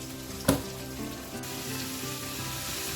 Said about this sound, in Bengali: এই দিকটাতে চাপিয়ে দিয়েছি হচ্ছে আলু উচ্ছে আর পেঁয়াজ ভাজাটা